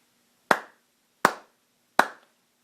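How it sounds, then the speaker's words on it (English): Three sharp hand claps ring out alone in a quiet room, evenly spaced about three quarters of a second apart, each crisp and close with a quick decay. "So if we were to depict that, we just clap 4 times."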